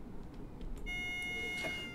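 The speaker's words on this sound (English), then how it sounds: "And I also like the AWS hooter as well on this train." AWS hooter on a Class 313 electric train in Train Simulator, a steady electronic tone that starts partway through and holds to the end over a low background rumble.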